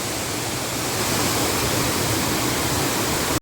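Water flows steadily by a cave with a Ramapir shrine, a close, loud, unbroken rushing roar that cuts off abruptly at the end.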